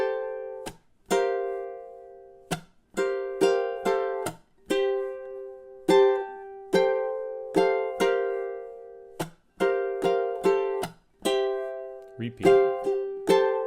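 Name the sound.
ukulele playing a song's groove, measures 23-26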